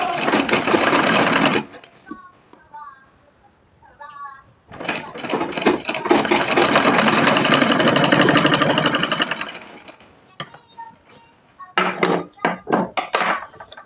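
A sewing machine stitches piping onto a frock in loud, rapid mechanical bursts, running for stretches then stopping, with quieter clicks and handling noises between runs.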